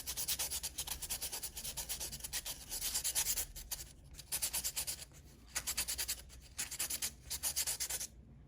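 A Palomino Blackwing 602 pencil is sharpened with close, rhythmic scraping strokes in short bursts with brief pauses between them, heard alone.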